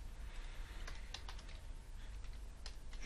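Fingers type on a computer keyboard, producing a quiet run of irregular key clicks over a low steady hum.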